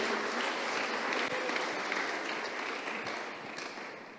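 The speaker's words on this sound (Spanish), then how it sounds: "Dale fuerte el aplauso al Señor," Congregation applauding during a Sunday church service, a dense, steady wash of clapping held at full strength for about three seconds before tapering off slightly at the end.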